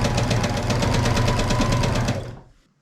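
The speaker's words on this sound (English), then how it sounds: "And just continue sewing without taking the needle out of the fabric." A sewing machine runs at a steady, rapid stitch while chain piecing quilt strips, its close, even whirr and needle rhythm holding for about two seconds before winding down and stopping.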